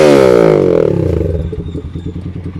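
A Z200X motorcycle with an SC Project exhaust blips its engine close up: a loud rev falls away quickly into a steady, bassy, pulsing idle.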